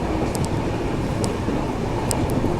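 Steady broadband rumble of the Garib Rath passenger train running through dense forest near tea gardens, a continuous close rolling roar with faint high squeaks, no talk.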